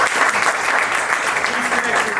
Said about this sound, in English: Let's give a round of applause to Jack.